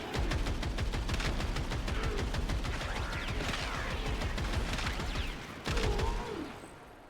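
Rapid, sustained automatic gunfire from a weapon in the video game Warframe rattles loudly and continuously for several seconds, then stops briefly and resumes in a short final burst.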